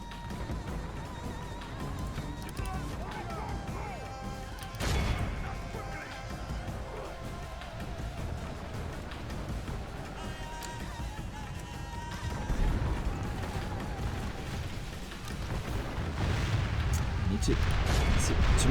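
Bombard cannons fire in a siege battle of a Roman-era strategy video game, heavy booms thudding at intervals over a dense rumbling battlefield din, with a sharp blast around the middle and the clamour swelling toward the end.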